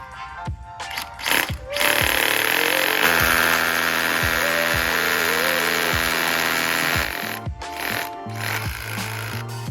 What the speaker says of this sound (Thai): ต่อมาเดี๋ยวเรามาลองเจาะพื้นกันดูนะครับ